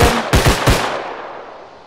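Gunfire in the video game Bodycam: three loud, sharp bursts of shots in quick succession close by, each ringing out with a decaying echo that fades across the open woodland map.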